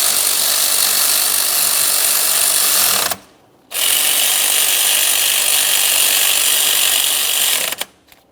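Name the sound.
power tool snugging Ford F-150 alternator lower mounting bolts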